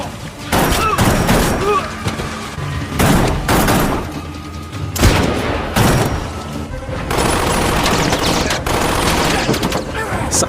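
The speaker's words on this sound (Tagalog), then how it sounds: "Lalong tumindi ang putukan at naganap ang mabangis na bakbakan" Intense gunfire from a movie battle scene, with dense bursts of rapid automatic fire and loud overlapping shots alongside impacts and booms, sustained throughout at close range.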